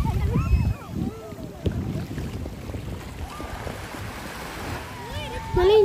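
Strong wind buffets the microphone at Hahei Beach, a busy tourist spot, with surf rumbling beneath it and distant voices and a few bird calls now and then.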